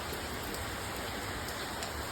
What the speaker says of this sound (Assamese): এয়া পুৰা ডাঙৰ বৰষুণ